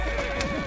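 A horse in Assassin's Creed Syndicate gives a loud, close neigh with a wavering whinny, with faint hoof clatter beneath.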